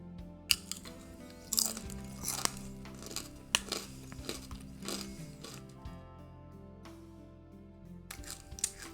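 Crunchy pita chips bitten and chewed close to the mic, a run of sharp crackling crunches in an uneven rhythm, with a steady music bed underneath.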